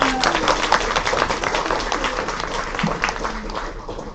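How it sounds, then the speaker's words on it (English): An academic mini-conference audience gives a closing round of applause, dense continuous clapping filling the room at close range and tapering slightly at the end. "let's give a final round of applause"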